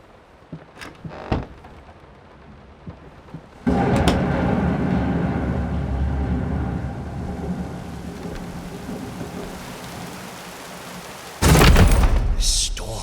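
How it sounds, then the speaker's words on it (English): Heavy rain pours steadily in the Layers of Fear video game, with a sudden loud thunder crash near the end and a few brief clicks and knocks earlier, no talking. "This storm's been going on for weeks."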